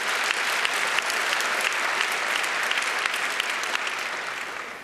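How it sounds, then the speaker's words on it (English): Dense, loud audience applause at a hacker conference keynote, a continuous wash of many hands clapping throughout without pause. "you can clap if you want."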